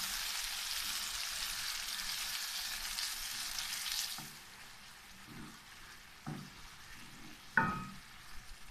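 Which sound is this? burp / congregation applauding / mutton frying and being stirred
mutton frying and being stirred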